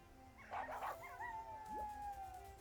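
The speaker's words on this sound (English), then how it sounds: "Dog." A dog howls in a video game, a long, wavering, drawn-out howl preceded by a short burst of yips, moderately loud over a quiet game backdrop, with no talking.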